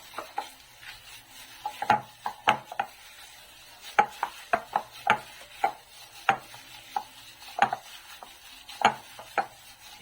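Ground pork wonton filling with green onions is mixed in a bowl, giving a steady series of soft wet slaps and clicks against the bowl at an irregular rhythm, close and moderately quiet.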